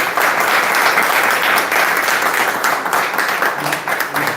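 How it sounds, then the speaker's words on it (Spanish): A large audience at a book presentation in Alicante claps steadily and loudly, a dense wash of applause that holds strong throughout with no voices standing out. "pido un gran aplauso"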